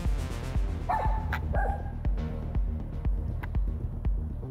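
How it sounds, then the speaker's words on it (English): A dog barks repeatedly outdoors near a building at a campsite, sharp regular barks at close to moderate distance, with a couple of higher yelps early on. "There's a dog over here barking at me"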